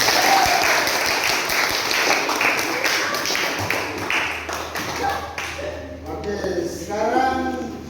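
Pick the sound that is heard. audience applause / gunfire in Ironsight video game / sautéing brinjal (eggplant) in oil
audience applause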